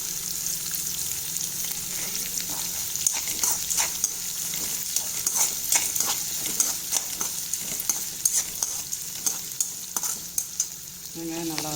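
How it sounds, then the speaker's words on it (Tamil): Onions frying and sizzling in hot oil in a pan with a little salt, a steady broadband hiss with scraping stir strokes throughout, close and fairly loud, no talking. "வெங்காயம் நல்லா வறுத்து"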